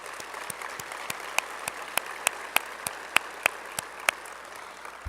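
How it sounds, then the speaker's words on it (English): Graduation ceremony audience applauding, a thin spread of claps with a dozen or so sharper individual claps standing out at a fairly even pace, moderately faint and heard without talk. "Please join me in giving these individuals a round of applause."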